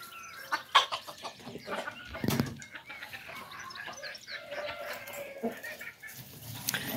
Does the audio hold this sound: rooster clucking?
yes